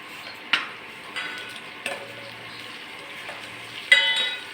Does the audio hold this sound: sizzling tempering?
yes